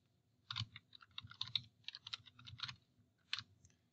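A username and password are typed on a computer keyboard in quick, uneven bursts of crisp key clicks with short pauses between, close and quiet, with no one speaking.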